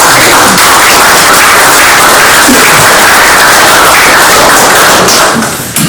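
Audience applause at a municipal council meeting in Mazères-Lezons, a dense, loud wash of many hands clapping that holds steady for several seconds before tapering slightly at the end.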